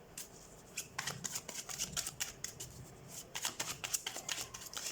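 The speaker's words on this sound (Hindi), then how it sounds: "सबसे पहले हम कार्ड शफल कर लेते हैं लिब्रा।" Tarot cards shuffled by hand for a reading: a close series of crisp riffling and flicking bursts in an uneven rhythm, moderately loud, with no talking.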